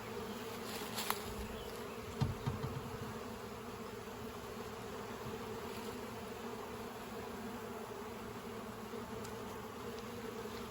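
Honeybees on an emerging brood frame in a nuc hive give off a steady, close buzzing drone, with a few faint handling knocks early on.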